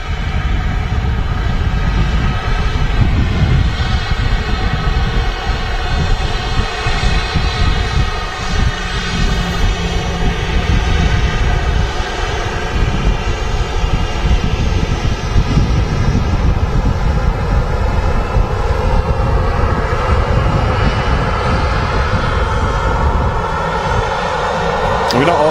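Aircraft engines drone at Manchester Airport, a loud sustained roar with a steady tonal hum that stays constant throughout, with people talking over it.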